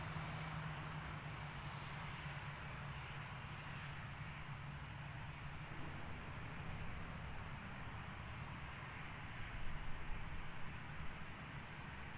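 An easyJet airliner departs London Gatwick Airport, its jet engines giving a steady, distant roar that holds evenly for about twelve seconds with no one talking.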